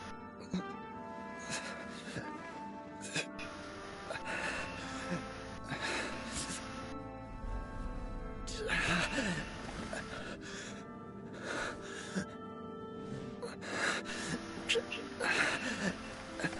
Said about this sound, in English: He's having trouble breathing.